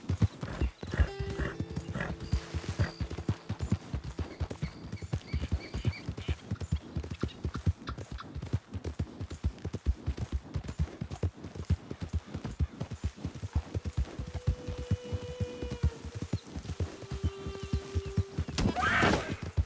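A horse in Red Dead Redemption 2 gallops with rapid, steady hoofbeats throughout, loud and close, while whinnies and neighs break in at several points over the running.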